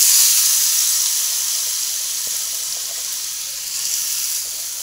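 Chopped potato pieces frying in about half a spoon of oil in a pan, giving a steady, close bright sizzle and hiss that eases slightly and swells again near the end.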